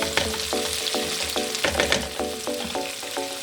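White cumin seeds sizzle in hot oil for Shinwari chicken karahi, a steady crackling hiss running throughout with background music over it and no talking.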